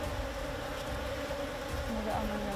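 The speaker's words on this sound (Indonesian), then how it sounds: "Di dalam udah ada lebah-lebahnya." Bees from a wild hive nest being harvested buzz in a dense, steady drone close by, filling the whole stretch with a continuous hum and no break.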